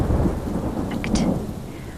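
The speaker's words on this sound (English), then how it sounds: "Have you ever been scared during a thunderstorm?" Thunderstorm with steady heavy rain and deep rumbling thunder, a sharper crack rising near the middle, loud and continuous throughout.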